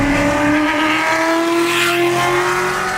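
A Shelby GT350 sports car engine runs at high revs with a steady, loud tonal whine that rises slightly in pitch, close and continuous.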